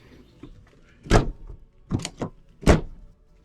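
Three solid car door slams from a rebuilt car with bead-lock wheels and welded doors, each a loud, close thunk spaced about a second apart, with faint rustling between them.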